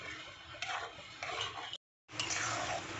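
Sago laddu mixture with cardamom powder stirred in a pan, a spoon scraping and clinking against the metal in quiet, uneven strokes, with a brief gap of silence partway through.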